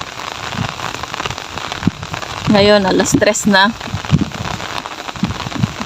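Steady rain patters on surfaces around a goat pen, a continuous close hiss under a person speaking briefly in the middle.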